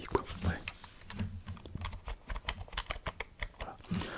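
Rapid clicking keystrokes on a basic office-style computer keyboard used for gaming, steady irregular typing close up, with low murmured voice sounds at the start and end.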